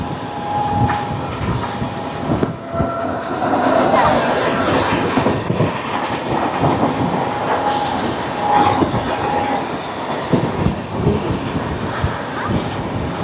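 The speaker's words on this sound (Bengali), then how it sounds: "এখানেই এক্ষুনি পাস হবে আমাদের সঙ্গে 20507 সাইরাং আনন্দবিহার টার্মিনাল রাজধানী এক্সপ্রেস" The 20507 Sairang–Anand Vihar Terminal Rajdhani Express passing close by, a loud continuous rumble of rail cars with rhythmic clickety-clack and brief high wheel tones, talk faintly mixed in.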